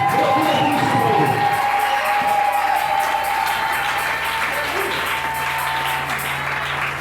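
Church congregation applauding and cheering together, a dense wash of clapping and raised voices that stays loud and steady throughout, with a sustained tone and a low hum running underneath.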